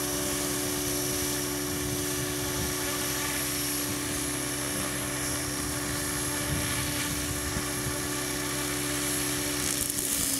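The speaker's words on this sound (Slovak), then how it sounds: "Á, kosačka ide." A lawn mower engine runs steadily close by, a continuous droning hum with no pauses for the whole stretch, no voices over it.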